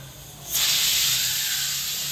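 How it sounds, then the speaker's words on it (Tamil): A sudden loud, steady hiss of steam bursting from a pressure cooker whistle while cooking country chicken curry, starting abruptly and continuing strongly, with a faint low hum underneath. "இப்போ விசில் விட்டுறலாம்"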